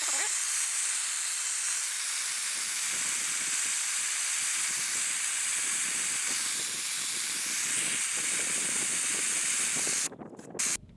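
Air hisses steadily out of a tire whose valve core has been removed, deflating it from about 40 PSI somewhere in the Anza Borrego Desert. The hiss is loud and close, lasts nearly the whole time, then cuts off near the end.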